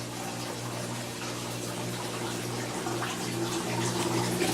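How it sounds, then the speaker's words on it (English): Water trickles and splashes steadily out of an aquaponics tank siphon, a close, continuous gurgling flow with a low hum underneath that grows slightly louder toward the end. "you can now see that the water is starting to trickle out"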